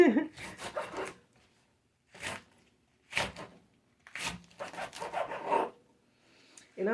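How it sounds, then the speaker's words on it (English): A knife makes several separate scraping chops through ingredients for homemade chicken soup, close and fairly dry, in short bursts with pauses between them. "I'm going to give it a few chops and then I'm going to stop."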